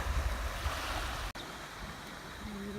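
Ocean surf washes up onto a beach in Panama, a steady near rushing wash of water with a brief dropout midway and some wind across the microphone.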